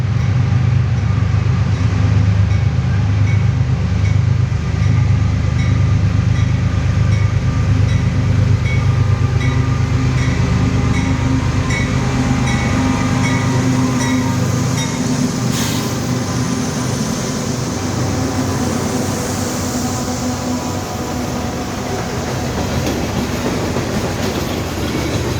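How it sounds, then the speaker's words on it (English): A freight manifest train led by two ES40DC locomotives and an ET44AH rumbles past steadily, with deep low-frequency roar, rhythmic clickety-clack of wheels and occasional metallic squeal, loud and close throughout. "The last train we caught that evening was a manifest led by two ES40 DCs and an"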